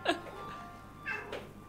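Two short, bright meows come from an orange house cat, one at the start and a rising one about a second later, quiet and nearby with a faint background hum.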